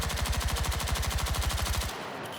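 Sustained automatic fire from the PW5A3 SMG in Battlefield 6, a rapid, even burst of loud close shots lasting nearly two seconds before cutting off, then quiet.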